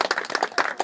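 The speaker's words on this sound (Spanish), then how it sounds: "Fuerte las palmas, hermanos." At a birthday party, a few hands clap in a quick, uneven burst, close and fairly loud, lasting under a second.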